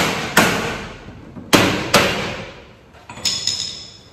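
A wooden school desk's loosened mortise-and-tenon joint is knocked back into place with four sharp, loud hammer blows spaced unevenly, each ringing briefly before fading, with no talking.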